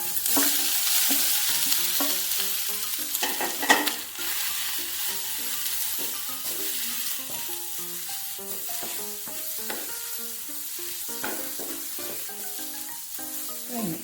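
Sweet potato leaves stir-frying in a pan for a side dish, a steady close sizzle broken by repeated scraping and clinking strokes of a spatula, without talk.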